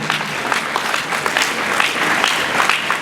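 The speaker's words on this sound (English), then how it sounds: "So ladies and gentlemen, I want you to clap as he moves to the high table." A conference audience at the University of Uyo claps as a professor walks to the high table, loud, continuous applause from many people with crisp individual claps standing out.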